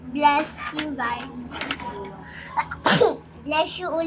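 A single sharp, loud sneeze bursts out near the middle, with people, including a child, talking before and after it.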